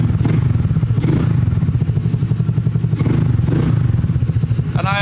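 A cold Honda Navi motorcycle engine idles at roughly 1300 RPM, giving a close, steady, loud putter with an even, rapid pulse throughout.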